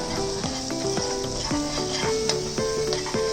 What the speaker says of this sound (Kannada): ಆಮೇಲೆ ಇದಕ್ಕೆ ಪೆಪ್ಪರ್ ಪೌಡರ್, ಧನಿಯಾ ಪುಡಿ, ಗರಂ ಮಸಾಲ ಹಾಕೊಂಡು ಮತ್ತೆ ಫ್ರೈ ಮಾಡ್ಕೊಳ್ಳಿ.